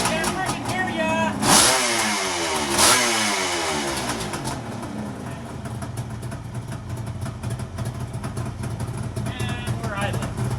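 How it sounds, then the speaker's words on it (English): A cold two-stroke Kawasaki H2 motorcycle engine starting up, with sharp revving bursts early on that settle into a rough, uneven running note; voices are heard over it. "And see how cold two-stroke will start up, maybe."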